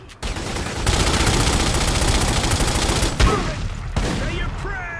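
Heavy, sustained automatic gunfire in The Godfather II, a loud, dense burst of rapid shots that runs for several seconds, briefly breaks, then resumes, with faint whistling sounds near the end.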